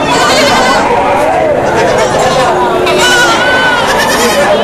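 Large goats for Eid sacrifice bleat at the Hazratpur livestock market, their cries rising repeatedly over a loud, crowded hubbub while people talk nearby throughout.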